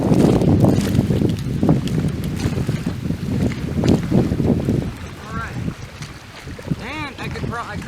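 A paddle digs hard into water in a strong pry stroke from a raft, with sloshing and splashing under heavy wind buffeting the microphone, and faint squeaky sounds near the end.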